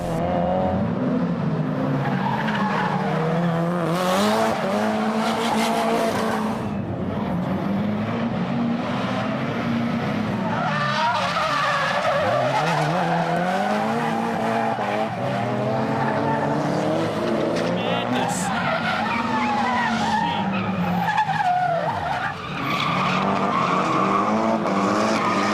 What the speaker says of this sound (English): it's a challenge to drift